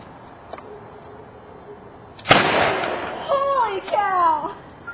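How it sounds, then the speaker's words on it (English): A propane-powered potato gun fires once with a sudden loud boom and a short trailing rush, followed by people talking excitedly nearby. "That is a good shooting potato gun."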